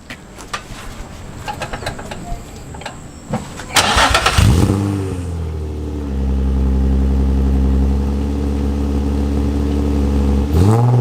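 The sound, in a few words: car engine starting up after repair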